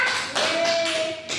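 Classroom applause during an elementary lesson, a short burst of hand claps from pupils with a sustained tone and some voices above it, near and fairly loud.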